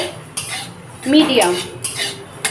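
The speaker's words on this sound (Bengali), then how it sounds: "কালো জিরে, কাঁচা লঙ্কা আর রসুন দিয়ে আমি ভালোভাবে শুকনো কড়ায় ভেজে নেব" Nigella seeds, green chilli and garlic dry-roast in a wok over a medium flame, with a spatula clattering and scraping against the metal in a loud burst midway and lighter taps around it, close by and without speech.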